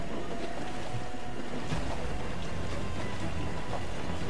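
A sailing ship moves through waves on open sea in Assassin's Creed 4: Black Flag, with a steady, loud wash of water and wind noise and no break.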